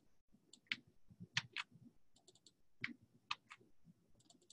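Several light computer keyboard key presses click in short clusters, fairly close and quiet, over a low background hum with no talking.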